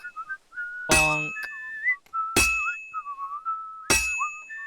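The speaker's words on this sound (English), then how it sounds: "Like 4 people whistling at the same time there." Several characters whistle at once in Kingdom Come: Deliverance II, overlapping wavering tunes broken by three sharp metallic clangs, fairly close, with no speech.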